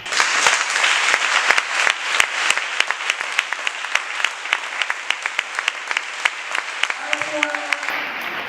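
A church congregation claps steadily for several seconds, the applause loud and close with sharp individual claps standing out, easing off near the end while a voice begins to speak.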